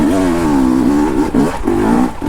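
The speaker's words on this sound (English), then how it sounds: "with this bike being in my hands, that is all I want to do, is go out and ride this thing." A fuel-injected KTM dirt bike engine runs steadily while being ridden, with a loud, continuous mid-pitched drone that dips briefly and then picks back up.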